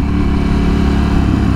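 Ducati Hypermotard 796 L-twin engine under way, a loud, continuous throbbing drone recorded close while riding, with no talk.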